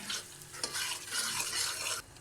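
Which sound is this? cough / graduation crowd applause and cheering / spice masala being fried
spice masala being fried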